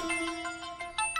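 A phone ringtone plays a bright electronic melody of short repeating tonal notes over a sustained tone, loud and close with no talk.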